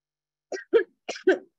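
A teacher coughs during an online training session: two quick pairs of sharp, close coughs separated by a short pause, with no other sound around them.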